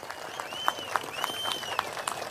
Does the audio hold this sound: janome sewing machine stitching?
no